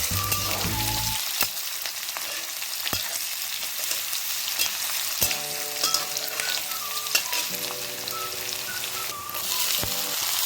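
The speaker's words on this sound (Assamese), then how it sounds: "পিঁয়াজখিনি মই এতিয়া ৰঙচুৱাকৈ অকণমান দেৰি ভাজি ল'ম।" Chopped onion sizzles steadily in hot oil in a pan for an Assamese-style paneer curry, with scraping stirs and soft clicks throughout while gentle music plays in the background; no one speaks.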